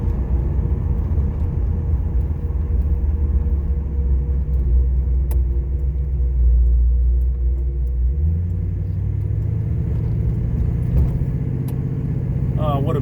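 Engine of a 1979 Pontiac Trans Am with a mild build on a country drive, heard from inside: a steady, loud low rumble that deepens into a heavier drone near the end, with no talking.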